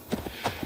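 Iron-shod horse hooves clop on the ground in Assassin's Creed Valhalla, four close, distinct hoofbeats in quick succession with a soft background hum.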